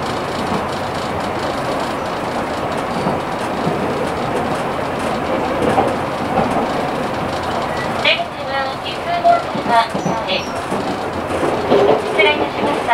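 A Nankai Main Line Southern Premium limited express train runs along the line. Its steady rolling rumble is heard from on board, with rhythmic wheel clicks and faint background voices toward the end.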